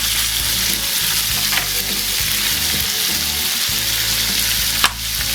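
Chicken pieces brown in a hot pan with a loud, steady sizzle and frying crackle close by. A few small stirring clatters break in and there is no talk.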